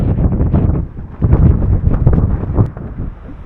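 Strong mountain wind at Ratangad fort, amid fog and rain, buffets the microphone in loud, uneven gusts, roaring and rumbling throughout with no voices.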